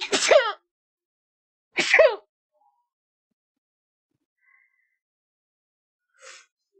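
Two sharp sneezes come close together and close up, followed by silence and a faint breathy sound at the end.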